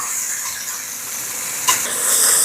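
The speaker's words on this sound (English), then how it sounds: "I'm just kind of browning them a little bit, and they'll cook in the soup." Pieces browning in a pot for homemade chicken soup with orzo give a steady, fairly loud sizzle and hiss, with a brief sharp crackle partway through and the frying growing slightly louder toward the end.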